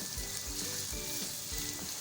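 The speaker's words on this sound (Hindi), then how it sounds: "प्याज को इतना फ्राई करना है प्याज अच्छे से सॉफ्ट हो जाए" Finely chopped onions fry in a pan for Rajasthani keema, a steady close sizzle with soft rhythmic stirring strokes repeating every fraction of a second, with no talking.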